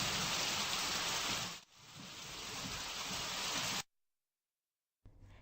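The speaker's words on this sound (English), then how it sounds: "It's raining." Steady heavy rain pours with a hissing patter, briefly dipping once, then cutting off to silence before a short return.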